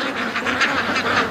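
A flock of pet ducks quacks in a dense, continuous chorus at close range, overlapping calls filling the yard during the morning rush.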